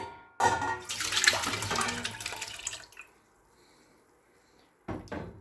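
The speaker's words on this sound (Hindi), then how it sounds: "सबसे पहले एक बर्तन लेंगे, इसमें आलू बुखारा और पानी शामिल कर देंगे।" Water poured from a tap into a cooking pot holding dried plums (aloo bukhara), a steady close splashing stream for about two and a half seconds, then a pause before a brief second splash.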